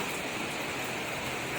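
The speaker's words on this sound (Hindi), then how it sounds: "बहुत तेज़ बारिश है और नॉन स्टॉप बारिश है।" Dense, steady hiss of heavy monsoon rain pouring down in Dehradun, Uttarakhand, loud and constant with no breaks or voices.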